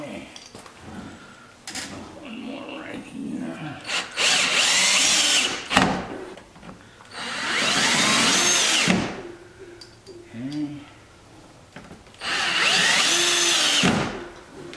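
A power drill driving screws into a C5 Corvette aero kit panel, three loud whirring bursts of a couple of seconds each, separated by pauses with handling noise and faint talk.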